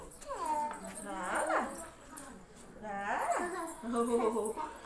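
A dog whimpers and yips in a home at close range, giving several rising and falling whining cries with short breaks between them.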